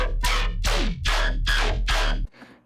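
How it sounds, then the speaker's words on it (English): Heavy dubstep synth bass, a Green Room Company Rider patch, growls through five quick rhythmic wobbling stabs over a steady low sub, then cuts off abruptly into a quieter tail. "We have this Green Room Company Rider bass."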